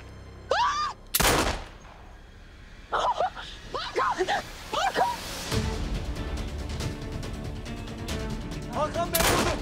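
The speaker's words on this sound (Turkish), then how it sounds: "Hakan Bey vurdu" Gunfire rings out in a scene from the Turkish TV drama Bir Zamanlar Çukurova. A sharp, loud shot cracks early, followed by a final burst near the end, with agitated voices calling out and a rumbling commotion between them.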